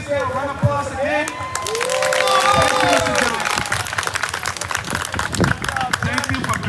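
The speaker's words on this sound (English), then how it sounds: "Can you please get a round of applause again?" Applause and cheering from a crowd at a political rally ring out as loud, dense clapping, with voices calling and a speaker's words mixed into the noise.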